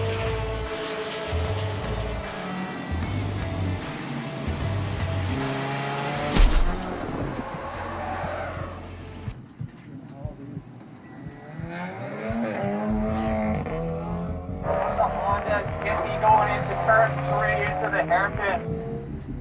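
Race car lapping a circuit during SRO America official practice, engine loud and close with shifts and revs through the first stretch, then quieter passages with speech-like tones and renewed engine noise.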